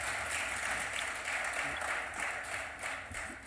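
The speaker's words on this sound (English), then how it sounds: "Could we have another round of applause" A conference audience applauds the panelists after a discussion session, steady sustained clapping from a large crowd heard at moderate distance and fairly soft.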